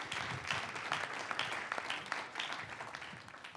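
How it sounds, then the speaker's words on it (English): An audience claps in steady applause for a speaker at a sports storytelling panel event, a dense, continuous patter of many hands that holds strong throughout and tapers slightly at the end. "I would a round of applause for LZ Granderson."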